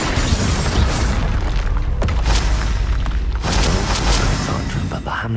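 A Confringo fire spell explodes in the Hogwarts Legacy game, loud rumbling blasts and crackling debris running through the whole stretch, with a sharp burst partway in and game noise beneath.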